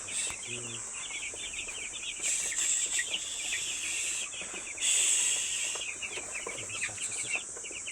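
Eight-day-old broiler chickens in a poultry shed fill the air with dense, continuous high-pitched peeping and clucking from many birds at once, swelling louder in a few bursts.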